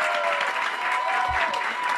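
An audience at a Hope4Life talk applauds Dr. Gabor Maté, a steady wash of many hands clapping at once, dense and continuous, with a faint thump partway through.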